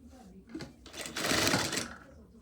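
A sewing machine running a short burst of stitching on inner pant fabric, a quiet whirring that rises and fades over a couple of seconds, close and without talk.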